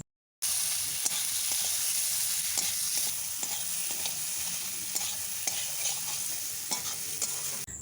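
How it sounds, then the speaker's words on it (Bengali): Fried pointed gourd stirred into spice paste in a hot pan: continuous close sizzling with repeated scraping and tapping of a spatula, steady and fairly loud throughout, no voices. "এরপর দেব ভেজে রাখা পটল দিয়ে ভালোভাবে মশলার সাথে আরও 2 থেকে 3 মিনিট কষে নেব"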